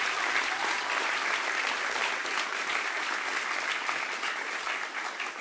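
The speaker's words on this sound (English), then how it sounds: "Please give him a round of applause." Round of applause for a governor at a back-to-school education event, dense sustained clapping from a large audience, evenly loud, easing slightly toward the end.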